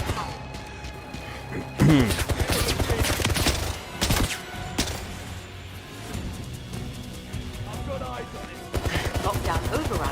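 Laser turrets firing in the 007 First Light video game come as sharp, dense bursts of zapping shots and impacts. They arrive in loud clusters separated by calmer stretches, with voices speaking in between.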